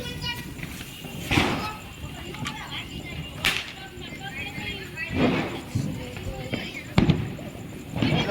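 Diwali firecrackers bursting outdoors: repeated sharp cracks and pops at irregular intervals, some near and some farther off, over a background of voices and festive commotion.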